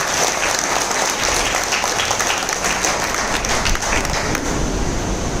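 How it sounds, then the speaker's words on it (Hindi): An audience gives dense, loud, continuous applause for the leaders at a training event in Mumbai, steady from start to finish with no talk. "एक बार जोरदार ताली सारे लीडर्स के लिए।"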